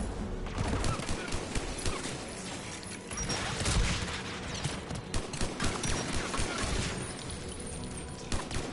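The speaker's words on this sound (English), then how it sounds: "There, the anti-aircraft guns." Anti-aircraft guns fire in the video game Mass Effect 3 as a continuous rattling barrage of rapid bursts over a loud, dense battle din, with heavier thumps scattered throughout.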